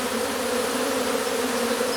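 A honeybee swarm fanning to call other bees gives a dense, steady buzz, loud and close, unbroken for the whole stretch.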